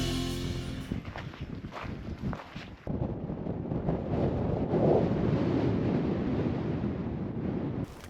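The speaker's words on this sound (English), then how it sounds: "It is very windy." Strong wind buffeting a microphone high in the Rocky Mountains, a steady roaring rush with low rumbling gusts that swell and stay loud throughout.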